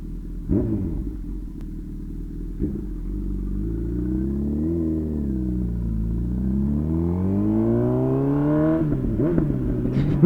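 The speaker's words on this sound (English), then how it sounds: "This bike just sounds so good" A 2021-or-later Honda CB1000R revs up, its engine and exhaust climbing and falling in smooth sweeps, a close, loud rumble that builds steadily before sharp bursts and a crackle at the end.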